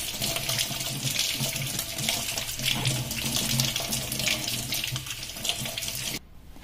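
A green pepper being washed under a running kitchen tap, a steady close splashing stream into the sink that cuts off abruptly near the end, with no talk.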